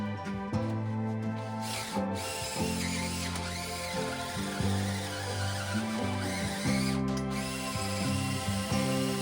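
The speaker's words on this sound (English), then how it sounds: "I'm just going to drill out, and it's nearly there" A power drill runs in steady bursts, its motor whining and pitch shifting as it bites into metal, drilling out a bolt hole in a Jaguar-engined car's engine bay, close and continuous with no talking.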